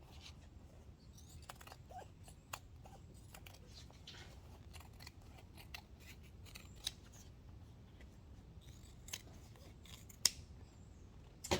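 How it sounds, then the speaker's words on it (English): Scissors trimming excess vinyl quilt fabric, a steady run of faint, close snips and cuts over a quiet room background, with a sharper clip near the end. "now we can just trim all of this off"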